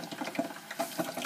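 Deep fryer sizzling as homemade fries cook in hot oil, a crackly, bubbling hiss with rapid irregular pops, moderately close and continuous.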